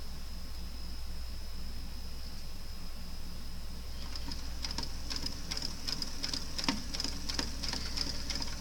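A sewing machine stitches along the very edge of lace-trimmed fabric, running with a steady low hum and a fast, faint ticking rhythm that sharpens in the second half, quiet against a soft background hiss.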